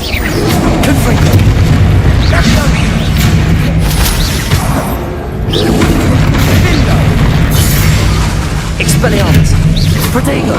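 Repeated blasting-curse explosions in Hogwarts Legacy during a troll battle, deep booming blasts that sound loud and continuous over dense game combat noise, with voices calling out spells throughout.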